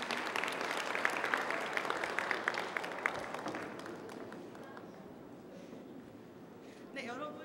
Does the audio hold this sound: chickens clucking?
no